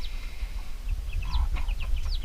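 A broody mother hen named Henrietta gives short, rising clucks and squawks, close by, over a low rumbling background as she is handled and moved.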